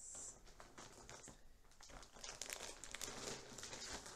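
Plastic bags crinkle and rustle continuously while yarn is handled nearby, with irregular close crackles and soft taps throughout, no voices.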